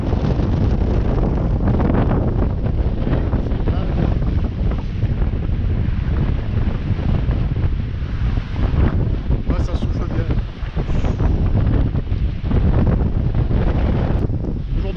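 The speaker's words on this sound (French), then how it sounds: "Belle rafale. 32 nœuds." Strong 32-knot wind gust while sailing a yacht through the Strait of Bonifacio: a loud, continuous roar of wind buffeting the microphone over rushing water, sustained and unbroken throughout.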